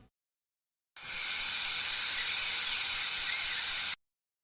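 A single continuous AI-generated steam hiss, loud and close, starting abruptly and holding steady for about three seconds before cutting off cleanly into silence.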